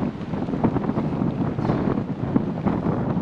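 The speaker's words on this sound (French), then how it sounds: "le vent est redevenu à la même intensité qu'hier" Strong coastal wind buffets the microphone while cycling along a seaside road, a continuous loud rushing roar with gusty swells and no voices.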